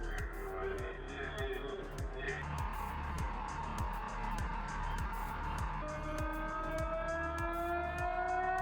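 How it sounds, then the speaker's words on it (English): A siren wails steadily across a dense, noisy backdrop with a rhythmic low thumping beat and rushing traffic-like roar throughout. "Siren."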